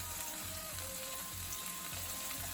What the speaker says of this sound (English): gonna saute the carrots for about 6 minutes